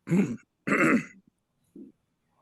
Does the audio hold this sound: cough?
yes